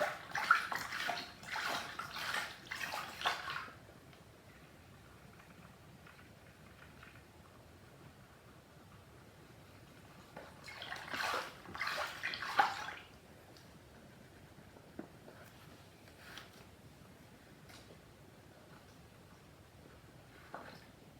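Sonic plush toy, an Adventure 2 Soap Shoes version, being washed in a water bath with gel, giving two bursts of sloshing and splashing separated by a quiet stretch with faint drips.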